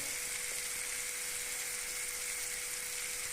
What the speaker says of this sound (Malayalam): അപ്പോൾ മീനും കൂടെ വറുത്തെടുക്കാം ചെറിയ മത്തിയാണ് കേട്ടോ